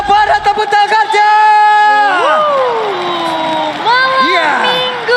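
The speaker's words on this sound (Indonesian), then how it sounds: "sekarang waktunya EPL Arena pada tepuk tangannya" Arena crowd at an MPL Indonesia esports playoff match between Alter Ego and EVOS, loud sustained cheering and shouting with a tonal wail or horn over it, a broad roar throughout.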